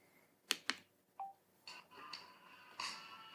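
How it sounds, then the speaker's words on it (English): A LEXIN MeshCon unit gives a short, clear electronic beep when its power button is single-clicked, preceded by two sharp click-like taps and followed by faint handling noise. "if you would like to play music, you would single click the power button."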